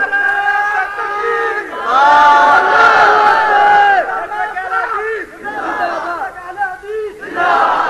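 A large crowd gathered at a mosque sermon shouts religious slogans in loud, rhythmic unison chants, rising and falling in waves of massed voices.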